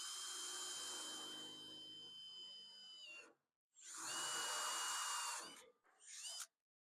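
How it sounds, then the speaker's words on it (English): A power drill bores holes through the grille core of a 1964 Ford Falcon, whining loudly in three bursts: a long steady run, a shorter one after a pause, and a quick final spurt. "now I can drill the holes that I marked where the tabs were through the core"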